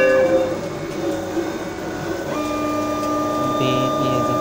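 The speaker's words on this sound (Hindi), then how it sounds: "ये कंप्यूटर के ज़रिए इसको प्रिंट देते हैं।" A computer-driven printer or plotter prints a name decal for a car, a steady mechanical hum with sliding tonal whines and shifting carriage notes, continuous and fairly close, heard without speech.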